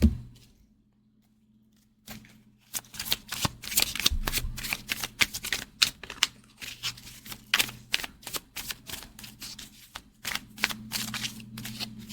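Tarot cards being shuffled by hand, a rapid run of crisp riffling flicks and taps after a quiet opening, close and steady with a faint low hum underneath.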